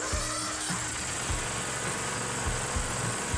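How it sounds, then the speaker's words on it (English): A Bobcat zero-turn mower engine runs at half throttle with a steady, loud mechanical drone and a low, even rumble throughout, with no speech. "start the engine and run at half throttle"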